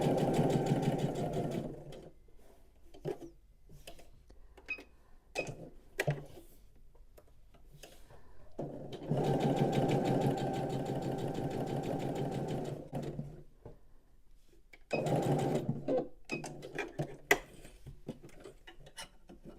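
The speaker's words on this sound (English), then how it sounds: "I'm going to start here with a back stitch, and then I'm going to come all the way around" A sewing machine stitches a quilted puffy coaster with back stitches at the start and finish, running in loud, steady bursts of rapid mechanical stitching separated by quieter pauses filled with clicks and handling taps.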